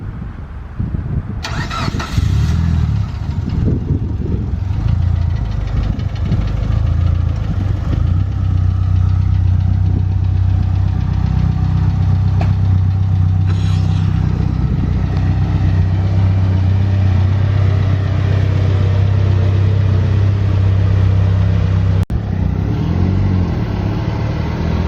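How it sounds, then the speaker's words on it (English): A Mitsubishi Lancer Evolution VIII cranks and fires up close by, then settles into a loud, steady idle with a deep rumble that holds for the rest of the stretch before a brief change near the end. "Gonna start the Evo 8."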